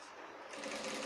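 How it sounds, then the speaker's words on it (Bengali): A sewing machine top-stitching a shirt runs in a continuous, steady whir, close and fairly loud, with no speech over it. "এইভাবে সুন্দর করে চাপ সেলাই, এক এক সমান চাপ সেলাই হবে, একবারে এক সমান চাপ সেলাই হবে।"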